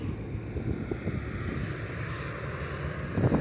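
Cold December wind buffets the microphone during pike fishing with a steady low rumble, gusting slightly stronger toward the end, with a faint watery wash beneath.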